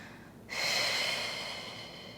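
During a Pilates exercise with a small ball, a single long, breathy exhale begins abruptly and trails off slowly, close and clear, with no words spoken.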